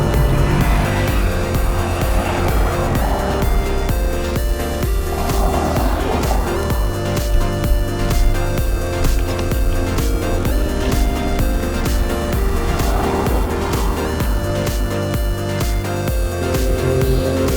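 Steady highway traffic in Tagaytay, with loud continuous engine and tire noise from vehicles passing close by, an unbroken roar with no talking.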